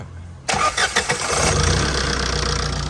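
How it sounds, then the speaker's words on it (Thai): A TATA diesel engine cranks briefly with a few quick starter turns, then catches and settles into a steady, close idle, with no talk. "เครื่องติดง่ายนะ"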